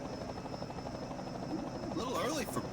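A helicopter's rotor thrums steadily in the background at a Myrtle Beach Speedway modified stock car race, a low pulsing buzz, while a voice speaks over it toward the end.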